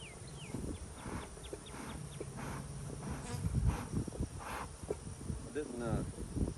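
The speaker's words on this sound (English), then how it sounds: "A few bees on the outside of here." Honey bees buzz around cardboard nuc boxes outdoors in an apiary, a faint, continuous hum under scattered bird chirps and handling noises, with a person speaking nearby.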